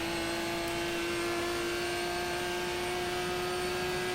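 A loud, sustained engine drone with a steady high-pitched whine from a Viper race car running close behind in the racing game GTR 2.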